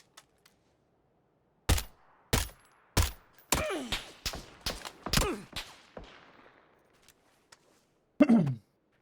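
Suppressed gunfire in the battle-royale game PUBG: a string of sharp, muffled shots in an uneven rhythm, several in quick succession and then a final burst, with no talking.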